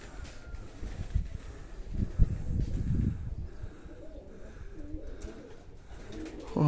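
Pigeons cooing at a pigeon club in Baku, a soft low murmur of coos close by with light rustling and faint chirps, while people exclaim quietly in the background.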